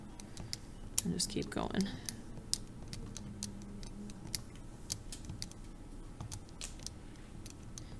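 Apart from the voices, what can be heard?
typing numbers into a calculator, pressing enter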